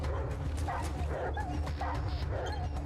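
A dog in the video game ATOM RPG yelps and whimpers in short repeated bursts, close and fairly loud, mixed with game audio and some talking.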